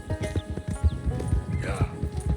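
Horse hooves clopping in quick rhythm with a brief neigh in Red Dead Redemption 2, close and clear over ambient game sound.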